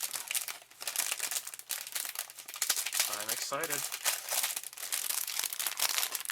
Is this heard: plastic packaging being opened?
yes